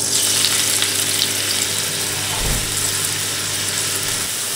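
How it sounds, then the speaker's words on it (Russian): Steady broadband sizzle of onion and carrot frying in butter in a pan, continuous and close, with a brief low thump partway through. "Лук с морковкой пережариваем на сливочном масле."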